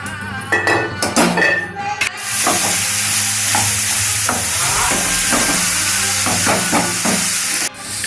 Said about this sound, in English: Fry the onions till they are brown.